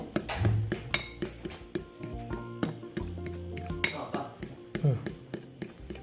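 A spoon clinks and scrapes against a bowl while keto bread batter made with coconut flour, apple cider vinegar and baking soda is stirred thoroughly, giving repeated close, irregular taps and rattles with faint voices in the background.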